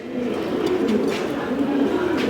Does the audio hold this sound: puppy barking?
no